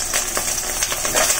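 Chopped onion sautéing in a pan for corned beef sinigang, a steady close sizzle with faint scraping stirs and no talking.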